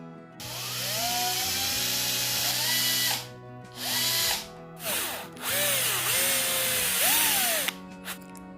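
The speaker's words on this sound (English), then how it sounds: "let's make the hole in the center to fix the glow plug and the female socket" A power drill bores a hole through the centre of a wooden file handle, a steady whining motor with rising and falling pitch across several bursts separated by brief pauses, close and loud with no talk.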